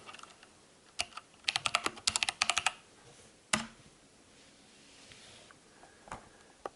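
Mechanical keystrokes on an Ajazz K620T keyboard with pink switches: scattered single clicks, then a quick run of close, crisp typing, then a few more isolated key presses with quiet pauses between.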